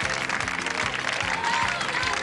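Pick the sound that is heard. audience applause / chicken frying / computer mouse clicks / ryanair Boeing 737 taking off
audience applause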